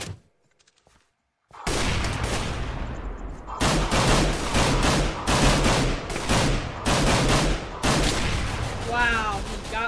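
Dense, loud bursts of gunfire from the Minestrike game after a brief quiet start, shots packed into rapid volleys with AWP sniper rifle fire among them, mixed with game sounds.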